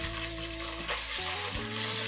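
Tomatoes and ginger-garlic paste frying in oil for a brinjal fish curry, a loud, dense sizzle that holds steady throughout, close and without any voices.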